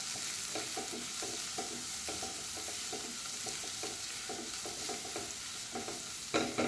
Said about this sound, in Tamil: கேரட் நல்லா வதங்கட்டும்